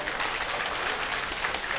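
Guests at a wedding sangeet ceremony applaud after a dance performance, a short burst of dense, lively clapping heard close and steady with no speech.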